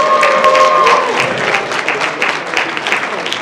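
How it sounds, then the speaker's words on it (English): A convention audience at an improv Dungeons & Dragons show gives a round of applause, steady crowd clapping with a brief tonal note at the start, fading slightly toward the end. "Give a round of applause for everyone who just came up and auditioned."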